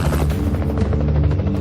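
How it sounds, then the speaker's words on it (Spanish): Helicopter flying low over a building, a loud continuous rotor thump and engine roar filling the scene with steady, close, heavy chopping. "Hay un helicóptero por aquí."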